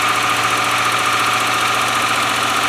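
1997 Land Rover Discovery 1 engine idling steadily just after its first start, worn tappets giving a fast, even ticking over a loud, close, rumbling drone with no talk.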